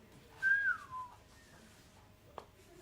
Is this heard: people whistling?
yes